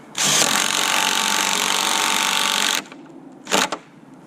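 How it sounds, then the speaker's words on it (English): An 18-volt DeWalt impact driver bolting down garage wall plates gives one loud, sustained buzzing hammer burst lasting over two seconds, close up, then a brief second short burst after a pause. "Bolt them down. I like to use an impact."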